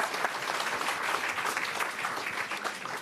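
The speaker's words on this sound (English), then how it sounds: "let's give them a round of applause and thank them for what they do" An audience at a mayor's town hall meeting gives a sustained round of applause, an even, crowded patter of many hands clapping at moderate volume with no voices on top.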